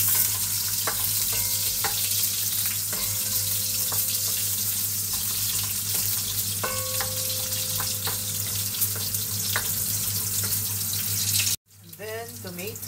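Onion frying in a pan and being stirred, giving a steady loud sizzle with scattered scraping clicks close by, then a sudden cut to a different noisy passage near the end.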